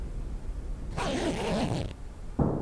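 A sleeping-bag zipper is pulled in the survival game The Long Dark, a rasping zip lasting about a second over low ambient noise, followed by a shorter second zip moments later.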